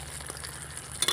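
Fried chicken pieces going into a simmering chilli chicken gravy, a short soft sizzle with a low steady hum and a louder scrape near the end, no talk.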